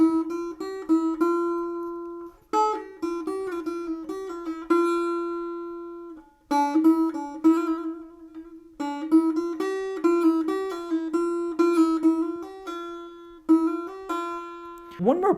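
Dutar, a two-stringed long-necked lute, playing a plucked melody on its first string alone, in several bright phrases with brief pauses between them, close and clear with no talking.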